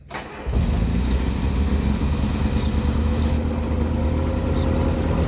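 A 1968 Riley Kestrel 1300 with an electric fuel pump and choke fires up and settles into a steady, close idle. The mid-pitched running note holds evenly after a brief cranking start.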